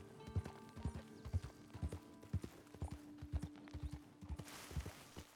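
Horse hooves clip-clop in a Wild West video game, a steady walking rhythm of soft, evenly spaced thuds against a quiet background, moderately close and fairly faint, with no voices.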